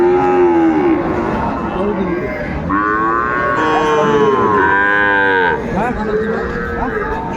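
Shahiwal and Nepali cattle at a cattle market let out several loud, drawn-out moos in close succession over a busy background with some voices.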